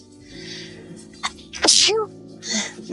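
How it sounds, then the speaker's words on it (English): A single sharp sneeze bursts out near the middle after a quick intake of breath, close and loud, with soft breathy sounds around it. "I can hear my sneezes."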